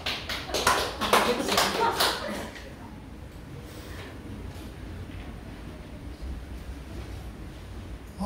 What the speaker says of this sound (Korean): 박수를 쳐줘야 되는 거야?